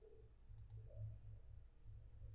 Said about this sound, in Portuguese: Se eu clicar aqui em drop